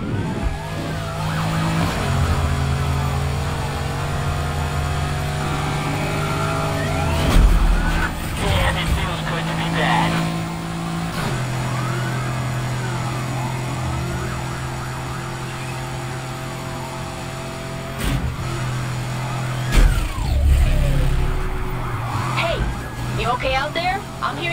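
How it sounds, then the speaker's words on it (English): Police car sirens wail continuously through a high-speed chase in the racing game Need for Speed Heat, their rising and falling tones loud and close over steady engine roar. "Flip on the sirens and get after them."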